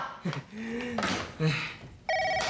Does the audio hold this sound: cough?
no